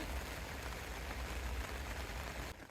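Steady rain falls during a family fishing trip, a dense, even hiss of drops on surfaces that stays constant and fairly close throughout, with no talking.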